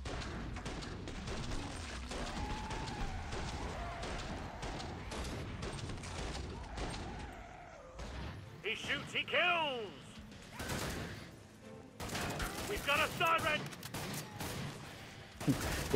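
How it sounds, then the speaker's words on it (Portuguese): Gunfire in a video game, with bursts of shots and crashing impacts spread through the action, plus game tones and effects, while a player talks over parts of it. "Eu dei 5 tiros"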